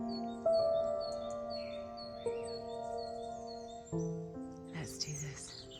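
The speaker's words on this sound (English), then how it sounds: "the birds are very loud this morning" Birds chirp and sing over a misty, wet winter morning, with scattered bright calls over a steady low background. A flurry of louder tweets comes near the end.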